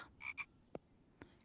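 A frog croaking in the survival video game The Infected: two quick bright croaks, then a couple of sharp clicks, fairly faint against a quiet background.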